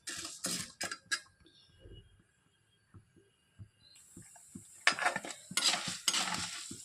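Tempering spices of mustard seeds, urad dal and chana dal frying in oil for beetroot pickle, with spoon clinks against the pan and a rising hot sizzle in the second half.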